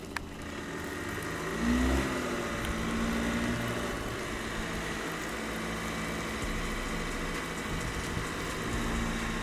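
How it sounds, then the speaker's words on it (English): A Toyota RAV4 SUV engine revs and strains while crawling over an off-road obstacle, a steady mid-level drone with a short rising rev early on, heard fairly close without talk. "So the Toyota found the second wind and car drove to the most difficult obstacle."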